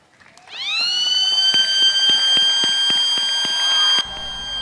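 A loud siren winds up quickly and holds a steady, piercing wail for several seconds before cutting off abruptly, opening a World AIDS Day event at Ancol Beach City as balloons are released.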